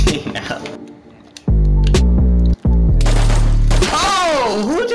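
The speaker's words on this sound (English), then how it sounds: "Oh, who just shot at me?" Gunfire in the video game DayZ near a prison: loud, heavy bursts of shots in the middle with a brief gap, preceded by quieter game noise and followed by a voice talking over sweeping tones.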